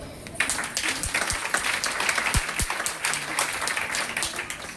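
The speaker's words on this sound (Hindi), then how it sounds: "ताली बजाइए" Applause from an audience at a motivational talk, steady clapping spread through the room, with a few voices briefly calling out over it.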